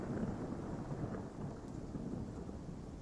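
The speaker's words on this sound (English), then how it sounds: "Once more, the crashing thunder." Heavy rain falls steadily with a low rumble of thunder underneath, a continuous, fairly quiet storm ambience without any voices.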